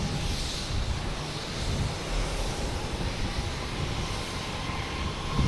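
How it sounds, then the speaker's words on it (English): A United Airlines Boeing 737-900 jet takes off, a loud, continuous, broadband jet engine roar that swells and holds steady, heard from a distance outdoors without talking. "Next to take off is United Airlines heading to Houston. And 737-900, flight 2060."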